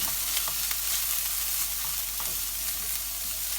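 Salted onions fry in a pan while a spatula stirs them through, producing a continuous close sizzle broken by repeated scraping strokes, with no talking.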